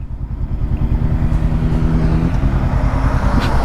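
A motorcycle drones steadily close by at full throttle, its engine note holding at a constant pitch with no talking.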